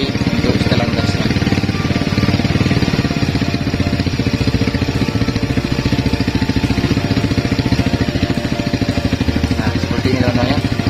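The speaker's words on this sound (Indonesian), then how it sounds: "Jadi sekarang motornya sudah tidak mati-mati setelah kita cuci karburatornya" Motorcycle engine with a freshly cleaned carburetor held at high throttle, a loud, continuous buzzing roar with steady rapid firing pulses, close and unbroken throughout.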